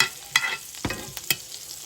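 A burger is basted in a pan over very low heat: a brief spell of soft sizzling broken by a few sharp spoon scrapes and splashes.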